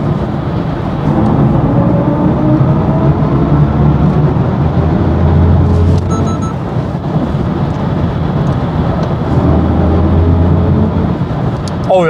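A BMW i4 eDrive40 electric sedan accelerates, producing a steady road and wind roar with a low hum inside the cabin, while people talk over it.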